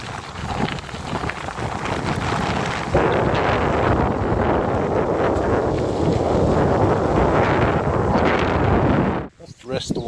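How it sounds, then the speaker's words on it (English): Strong headwind buffeting the microphone on an outdoor ride, a loud continuous roar that swells partway through and stays heavy before cutting out abruptly near the end. "you probably hear it's headwind, and it really is picking up"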